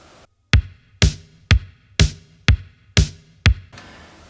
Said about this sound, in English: if you wanted to do a little bit of late 80s style music, house music, something with a beat like this